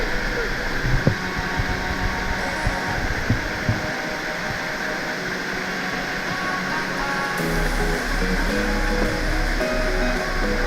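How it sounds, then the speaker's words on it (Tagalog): Lusno Falls, also called Tay-ong Falls, in Anajao, Argao, pours down as a steady, broadband roar of falling water heard up close from beneath the cascade. It stays continuous throughout, with faint voices occasionally rising over it. "Under the waterfall."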